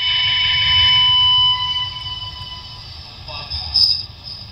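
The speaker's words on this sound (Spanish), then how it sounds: "Alarma, ¿eh? Sonó alarma." An alarm in the horror video game Bonefield blares as steady high tones, loud at first and then fading, with a person talking over it and a low rumble underneath.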